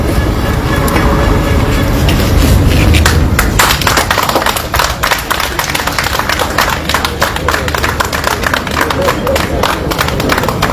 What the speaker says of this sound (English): to raise and clap for you first.